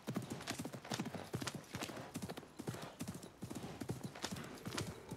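Horse hooves gallop in a steady, rapid clip-clop rhythm across a ride in Assassin's Creed Mirage, loud and continuous throughout, with an occasional faint whinny and a little background voice.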